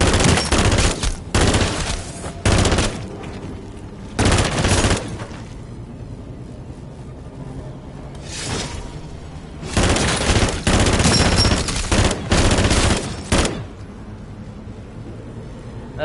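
Loud automatic weapon fire from an FR rifle in MW3 Zombies comes in several long, heavy bursts separated by brief quieter gaps, close and punchy, with no talking over it.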